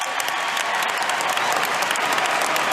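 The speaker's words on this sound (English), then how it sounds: "Wild celebrations in the crowd for every single miniature success that she has" A crowd at the 2022 U.S. Open tennis match between Serena Williams and Ajla Tomljanović bursts into loud, continuous applause and cheering, a thick wash of clapping close at hand.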